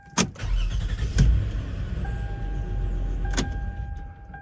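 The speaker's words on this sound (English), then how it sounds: "I'm going to restart the car" A 2004–2010 Lexus RX engine restarts: a few sharp mechanical clunks and clicks over a steady close idle hum, followed by a thin, sustained chime tone.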